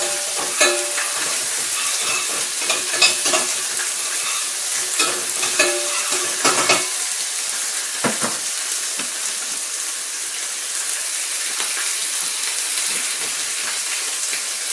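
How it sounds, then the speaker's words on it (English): Chopped red and green peppers frying in a warm pan for a Thai green coconut curry, a steady close sizzle with intermittent scraping stirs and clatters, no talking. "So there's the chopped up red and green peppers. In we go. Give them a little stir."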